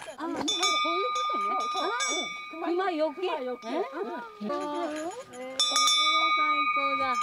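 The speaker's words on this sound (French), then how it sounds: "ah il y a une grosse cloche là" A large bell rung along a mountain trail in the Japanese Alps at Kamikochi, with strong repeated tonal strikes that ring on and sustain, heard under continuous talking and laughter nearby.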